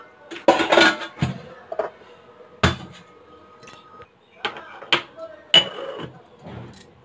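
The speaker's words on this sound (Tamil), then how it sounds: "இப்போ பாத்திரம்லாம் கொஞ்சம் வாஷ் பண்ணி போட்டிருக்கேன்" Metal pots, pans and dishes are washed in a home kitchen, with scattered clanks, clinks and knocks coming in irregular bursts, close and fairly loud against a quiet background.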